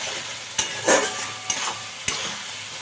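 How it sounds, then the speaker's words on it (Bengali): Khoira fish curry with potato and brinjal is stirred and fried in a pan after a splash of water, a close sizzle punctuated by three or four sharp spatula knocks and scrapes. "একটু জল দিয়ে কষিয়ে নিচ্ছি ভালো করে দেখো আবারও নাড়াচাড়া করে দিলাম"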